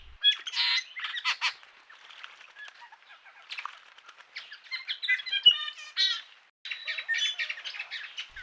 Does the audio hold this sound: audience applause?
no